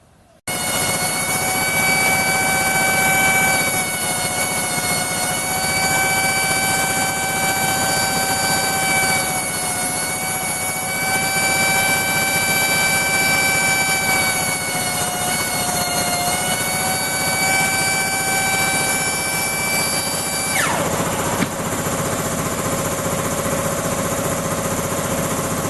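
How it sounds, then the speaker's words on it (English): A cheap pencil air die grinder running with a small friction disc to restore a lathe dead center, a loud steady high-pitched whine sustained for about twenty seconds before spinning down abruptly. "using a simple little grinder like this"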